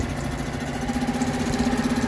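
A small Honda 5-horsepower outboard motor on an 8-foot dinghy idles nearby, a steady, moderately quiet putter with a regular pulsing rhythm throughout.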